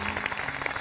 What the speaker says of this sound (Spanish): Un aplauso para San Borja, el 10 de octubre.